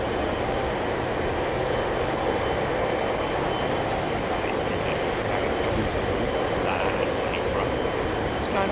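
A fixed-wing airliner going around at London Heathrow, its engine roar a steady, broad rumble that stays loud and constant throughout, with no talking over it.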